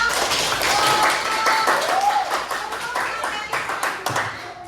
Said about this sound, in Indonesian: Semuanya tepuk tangan dulu dong